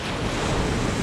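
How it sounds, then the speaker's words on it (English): Strong wind roaring across the microphone with surf crashing on the Aberdeenshire coast at Inverbervie, a steady loud broadband rush with no voices. "it was blowing a hoolie and the sea was rocking in"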